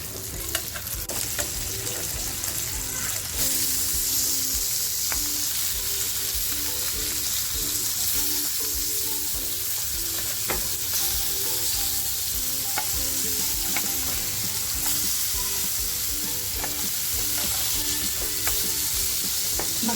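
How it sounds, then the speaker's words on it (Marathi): Garlic-marinated surmai fish steaks fry in a pan on a slow flame, producing a loud, unbroken sizzling hiss with small crackles and pops throughout, close up and without talking. "आपली मच्छी छान फ्राय झालेली आहे"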